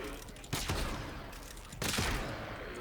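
Two heavy weapon blasts from the Ferrox in the shooter game Warframe, spaced about a second apart, each a sharp loud burst trailing off over a steady game background.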